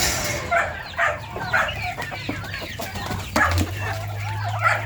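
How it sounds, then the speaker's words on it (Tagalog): A group of small backyard chickens clucks and murmurs close by, with busy overlapping calls and occasional louder squawks over farmyard background noise. "Ito naman yung mga maliliit kong manok."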